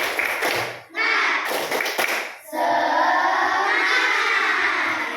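A classroom of pupils performs a rhythmic spirit clap, bursts of claps and voices alternating with shouted chanting, loud and close, with children's voices dominating the later part.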